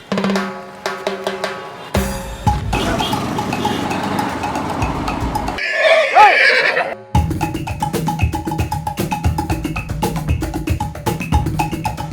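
A horse neighs at the horse and cattle market of the Anthiyur Gurunathaswamy temple chariot festival, a short whinny partly masked by loud music and engine noise.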